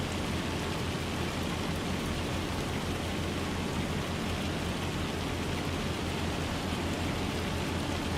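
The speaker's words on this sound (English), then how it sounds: "Man, it's raining." Rain pouring in Farming Simulator 25, a dense, even hiss of falling water that stays loud and constant from start to finish, with no one talking.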